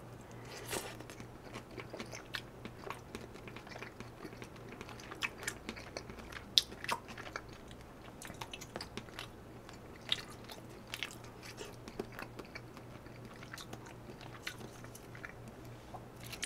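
Beef shabu shabu dipped in chili sauce is chewed close to the mic, with soft, irregular wet bites and crunches over a quiet background and no talking.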